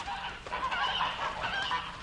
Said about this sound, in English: I looked at the geese, which was hissing and huddling in the corner of the yard